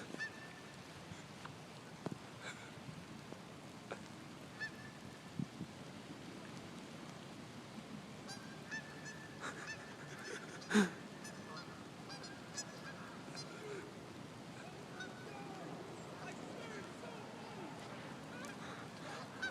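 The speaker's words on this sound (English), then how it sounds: "Interview after Geese chase." Geese being chased in pouring rain give scattered honks, mostly faint and at a distance, with one louder honk near the middle. A steady hiss of rain runs underneath throughout.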